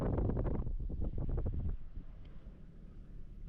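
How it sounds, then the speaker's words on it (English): Wind gusts strongly outdoors on a sunny day in Alaska, buffeting the microphone with loud, rumbling bursts that ease after a couple of seconds into a softer, steady blow. "A little windy."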